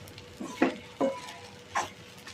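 Sabudana khichdi being mixed with crushed peanuts in a pan, heard as a few soft, separate stirring scrapes and light clinks against the pan, close and quiet, with no talking.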